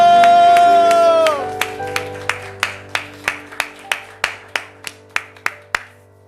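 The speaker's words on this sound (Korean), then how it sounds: "우리 하나님께 영광과 감사의 박수 올려드리겠습니다." A church congregation claps in steady, evenly spaced unison beats that follow a sustained keyboard chord fading out at the start. The claps ring moderately loud in a reverberant hall.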